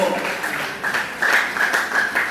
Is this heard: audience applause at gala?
yes